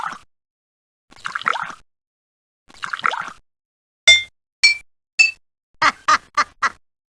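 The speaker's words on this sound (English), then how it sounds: "Our monster wants to play a tune on the glasses of water, but all the glasses make the same sound." Glasses of water in a creative-thinking video game are struck to play a tune: several soft, muffled taps, then a quicker run of bright, ringing clinks with short pauses between them.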